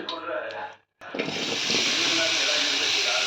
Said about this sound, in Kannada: ಈಗ ಪನ್ನೀರನ್ನ ಫ್ರೈ ಮಾಡ್ಕೊತೀನಿ